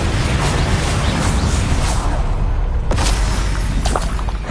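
A loud Bombarda explosion spell from the video game Hogwarts Legacy: a dense, sustained booming roar with a sharp burst near the end, filling the whole clip with no pause.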